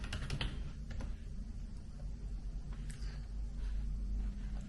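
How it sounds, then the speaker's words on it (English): Quick bursts of typing on a computer keyboard, close and fairly quiet, with clustered key clicks at the start and scattered taps after. "Let's type atherosclerosis."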